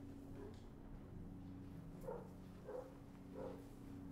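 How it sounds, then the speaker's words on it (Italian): A neighbours' dog barks faintly in the distance, three or four soft, muffled barks spaced under a steady low hum. "Il cane dei vicini"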